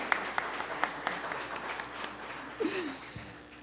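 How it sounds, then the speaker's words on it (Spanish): Audience applause at a book launch event, a few sharp claps standing out at the start over a steady patter of clapping from a modest crowd, with brief vocal sounds near the end. "Un aplauso para ellos también."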